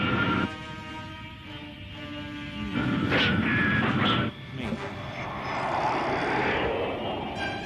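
Aircraft flying sound effect from the Jumborg Ace TV series, episode 19: a steady, fairly loud engine roar and rushing noise that swells midway, with voices speaking over it.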